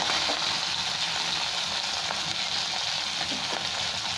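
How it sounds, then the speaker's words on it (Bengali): Small salted, turmeric-rubbed fish frying in hot oil, a close, steady sizzle with occasional crackles and light utensil stirring, no voices. "এখানে আমার ছোটো মাছগুলো ভাজা হয়ে গেছে"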